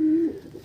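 Andhra pigeon giving a single short, loud coo up close, then fading into quiet low murmuring in a pigeon loft.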